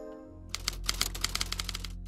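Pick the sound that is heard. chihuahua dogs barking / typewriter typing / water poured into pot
typewriter typing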